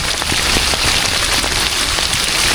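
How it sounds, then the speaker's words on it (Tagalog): Heavy rain pours near Cawag River in Subic, Zambales, a loud, dense, steady hiss of drops hitting surfaces close by, with no talking. "Lakas ng ulan."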